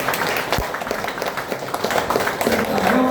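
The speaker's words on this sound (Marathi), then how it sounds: "एक जोरदार टाळ्या निर्माण केला" An audience applauds at a speech event, with dense, steady clapping that fills the whole stretch while voices carry faintly underneath.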